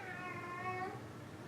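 A house cat meows in a short, tonal, drawn-out cry lasting under a second, fairly faint and close in a quiet indoor room, with no talk.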